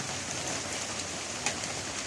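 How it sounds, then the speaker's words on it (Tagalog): Sudden heavy rain pours down on a rural yard with a hut and a santol tree, making a steady, dense hiss throughout with a slight spike near the end and no voices. "Ang problema, biglang bumuhos ang ulan."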